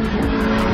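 Honda street race cars scream at high RPM, a loud, close, continuous engine wail with a strong steady tone and a faint rhythmic pulsing, heard alone without talk.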